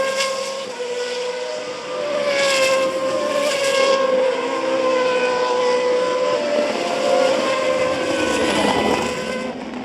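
An Auto GP single-seater race car powers out of the chicane at the Hungaroring. Its engine howl climbs and shifts pitch through the gears, loud and sustained over nearly ten seconds, with no talk over it.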